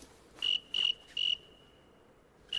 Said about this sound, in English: Cricket stuff.